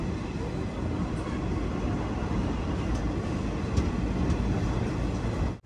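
The Mussoorie Express sleeper-class train rolls toward Delhi Junction, heard from inside as a steady, broad rumble and rush of wheels and carriage noise with a few faint metallic clicks, no talk.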